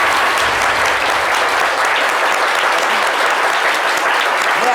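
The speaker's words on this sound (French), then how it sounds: "On va faire 10 secondes d'applaudissements pour Bonkana Maïga" A studio audience applauds as a tribute to Bonkana Maïga, dense loud clapping from many hands, sustained and even throughout.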